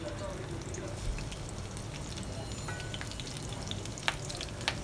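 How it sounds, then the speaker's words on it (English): Chilies frying in hot ghee in a pan, giving a steady close sizzle with scattered sharp pops and crackles throughout. "Later add some chilies to it and wait for it to pop up."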